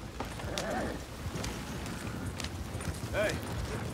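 Horses clip-clop over ground in Red Dead Redemption 2, a few faint hoof beats set among a busy in-game scene while people talk over them.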